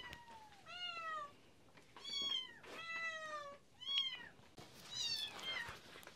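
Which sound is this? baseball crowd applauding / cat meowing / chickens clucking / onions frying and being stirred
cat meowing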